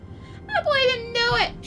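A cat in Final Fantasy XIV: Heavensward gives one long, wavering meow that rises and falls, close and clear over quiet game ambience.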